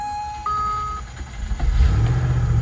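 A neglected Range Rover's engine cranks and fires into a rough idle, rising low rumble after a brief chime-like tone, close and fairly loud.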